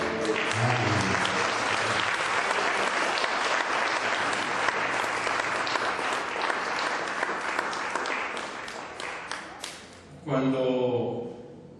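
A church congregation applauds loudly and steadily for about ten seconds in praise to the Lord, then the clapping breaks off and a voice speaks over the last of it.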